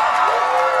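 Cheering from a convention panel audience at a Pokémon Q&A fills the moment with a brief, steady swell of crowd voices and whoops.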